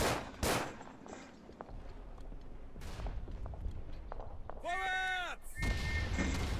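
Gunfire and distant artillery in the World War I shooter Verdun: sharp blasts and scattered shots over a rumbling battlefield bed, with a brief voice-like sound in the middle.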